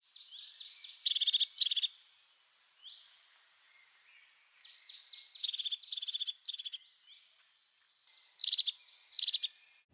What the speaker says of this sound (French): La mésange huppée